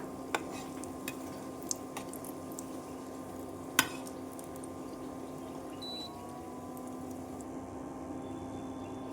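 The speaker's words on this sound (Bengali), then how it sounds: "এরপর আমি এই নাস্তাটা তেলের মধ্যে ভেজে নেব" An egg-and-flour snack fries in hot oil with a steady, soft sizzling hiss. A few faint clinks of utensils sound against it.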